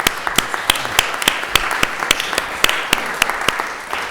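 An audience at a Lowell City Council meeting applauds the cultural director, Elsie Nunn, as she comes forward, loud close claps with a few distinct sharp hand strikes standing out from steady group clapping.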